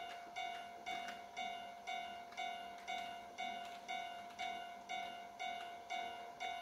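A distant electric commuter train approaches a level crossing, its wheels clacking in a steady repeating rhythm over a faint hum, with no voices.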